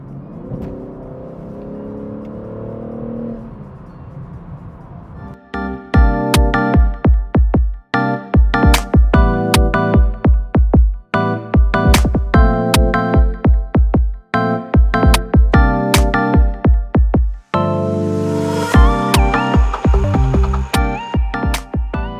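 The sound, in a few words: BMW M3 car engine while driving through a corner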